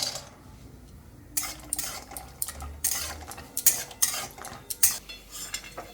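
Cashews frying in oil in a pan on a gas stove, heard as a quiet start followed by bursts of sizzling and spoon-against-pan clatter from stirring, with no voices.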